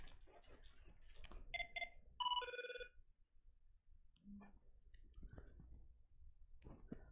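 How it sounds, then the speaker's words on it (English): A phone rings in a quiet room with a few short, faint electronic tones in a brief burst, followed by scattered soft clicks and handling noises. "And my phone is ringing."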